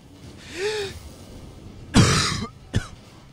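A person with a cold coughs and clears their throat during a Rocket League session: a short throaty rasp, then a louder harsh cough burst and a brief final cough, close to the microphone.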